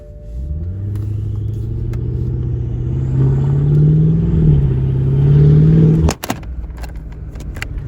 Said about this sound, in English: Definitely hear the turbo spool.